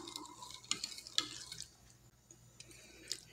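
A spoon mixes a Brazilian northeastern cuscuz mixture made with coconut milk, giving soft, quiet scraping strokes broken by a few sharp clinks against the bowl, close by and without speech.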